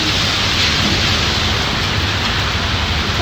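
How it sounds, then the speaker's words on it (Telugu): Steady, loud rain pours down in an even, dense hiss across the whole stretch, close by, with no voices over it. "చిన్ను ఇప్పుడు వెరైటీగా వానలో తడవడానికి వెళ్తుంది."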